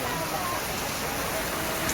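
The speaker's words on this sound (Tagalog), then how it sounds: "It's raining hard here in Libacao, ladies and gentlemen." Heavy rain pouring in Libacao, Aklan, Philippines, near the Aklan River: a dense, steady broadband hiss that holds at an even loudness throughout.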